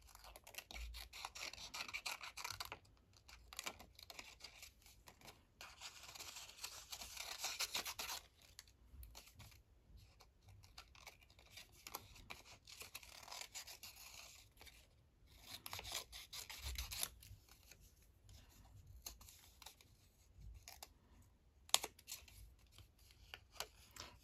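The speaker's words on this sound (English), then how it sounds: "These have a nice point to get into these little spots here, these scissors." Scissors with a fine point cutting scanned painted ledger paper for crafting envelopes and flip pockets, faint close snips and rustling scrapes in irregular bursts with quiet pauses, no talk.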